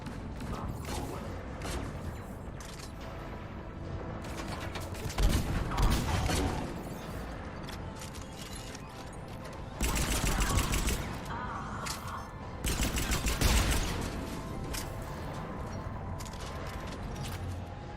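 Heavy cannon fire in the Mass Effect 3 video game: loud, booming blasts in bursts amid a dense, continuous din of mechanical battle noise, with no speech over it.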